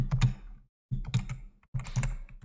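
Code is typed on a computer keyboard in three quick bursts of close, crisp key clicks separated by brief silent pauses.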